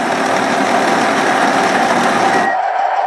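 A heavily loaded model train locomotive motor runs flat out at top speed step, drawing over 3 amps, giving a steady high-pitched whine and buzz that cuts off abruptly near the end.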